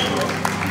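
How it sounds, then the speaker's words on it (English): Applause at a Christmas party at a home in Cerritos, California, a brief burst of steady clapping from a small crowd, mixed with voices talking over it. "A bigger applause to who else but Vera Esquivel."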